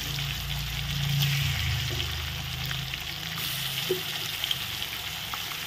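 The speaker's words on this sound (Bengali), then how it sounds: "দেখো এমনি দিলে কিন্তু দেওয়ার সাথে সাথে একদম ফাস্ট করে ফুটবে।" Pieces of a large boal fish head fry in hot oil with a steady, close bubbling sizzle that swells briefly near the start, then settles with occasional small pops.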